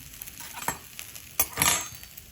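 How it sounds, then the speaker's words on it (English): Stir-fry ingredients sizzle in a pan as they are stirred, with a soft frying hiss broken by scrapes and a few bright clinks of the utensil against the pan. "Just going to stir those so they get some of the flavour"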